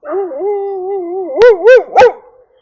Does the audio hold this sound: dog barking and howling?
yes